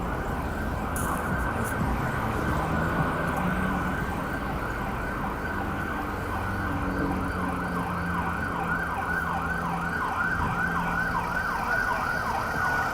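Emergency sirens wail continuously on a New York City street, a fire truck and an ambulance passing through, steady and fairly loud with traffic rumble beneath and no talk.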